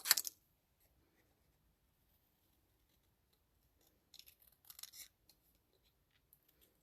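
Scissors snip through paper for a papercraft kit piece: one sharp, close cut at the start, then quiet, and a few softer snips and paper rustles about four seconds in. Nobody speaks.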